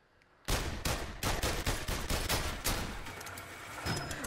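Rifle shots fire in quick succession at a virtual shooting gallery in PlayStation VR Worlds, about a dozen sharp, loud cracks in an uneven rhythm, ending with a few scattered shots.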